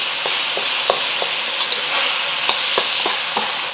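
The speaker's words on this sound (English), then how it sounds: "Just gonna let it sear for a minute before I start moving it around" Ground beef sears in a pan for a beef stir fry with tomato and egg, a steady loud sizzle dotted with small crackles and pops, close up and without talking.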